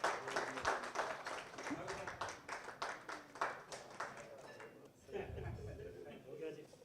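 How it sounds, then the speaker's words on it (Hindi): Applause for Farooq Nazar at an anniversary celebration in a Manchester TV studio, a crowd clapping briskly and somewhat distantly for several seconds, then giving way to someone speaking near the end. "मैं समझता हूँ कि बहुत सारी तालियां होनी चाहिए"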